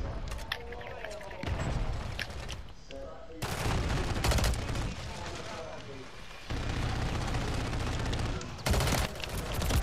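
Loud bursts of rapid video game gunfire, automatic weapons firing in dense volleys with short gaps between them, fill the scene up close.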